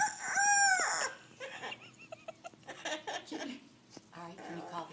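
An Amazon parrot imitating a rooster, giving one short, bright crow at the start, followed by softer chatter and clucking sounds while a person talks nearby.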